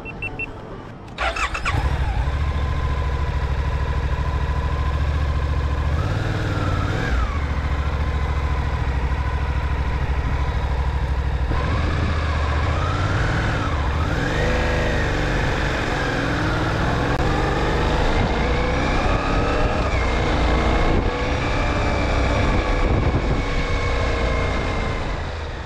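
Steady engine drone of a Suzuki V-Strom 800DE motorcycle being ridden on the road, constant and loud with rising and falling tones as it speeds up and shifts gears, wind noise mixed in and no talking.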